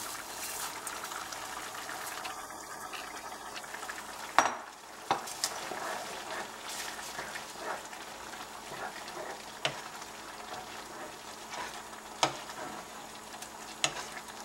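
A steady bubbling, sizzling sound of vermicelli cooking in boiling water for semiya khichdi, with a few sharp clinks and scrapes of a utensil against a pot scattered throughout.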